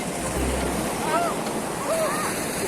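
Ocean waves at the beach roar as a continuous broadband wash with strong wind buffeting the microphone, loud and steady, with faint short tones in the background.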